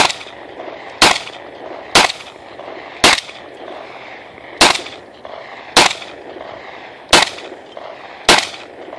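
A FEG P9R 9mm pistol fires eight loud, sharp shots at a fairly steady pace of about one per second, each followed by a brief echo, with no talk.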